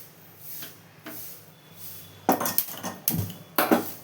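A wok (kadai) is set down on a lit stove with several clattering metal knocks and scrapes in a short cluster, close and fairly loud over a low steady burner hum, with no talk.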